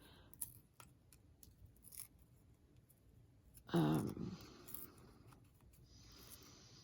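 Paper being torn into thin strips for handmade journal charms, a single short, close ripping burst over quiet room tone with faint small rustles around it.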